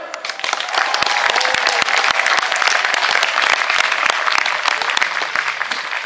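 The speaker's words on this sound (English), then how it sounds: "I want a nice round of applause for starters for Trevor!" Steady, full audience applause for a birthday at Peasholm Park in Scarborough, a thick wash of many hands clapping continuously at close range for several seconds.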